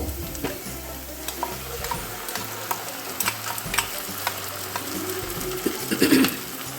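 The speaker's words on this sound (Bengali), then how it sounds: "পেঁয়াজ ভাজা হয়ে গেছে, এবার আমি এর মধ্যে পটল বাটাটা দিয়ে দেব।" Fried onions sizzling in a pan as pointed gourd paste goes in, with close, busy frying crackle and repeated spatula stirring scrapes, ending in a louder burst of sizzle and clatter near the end.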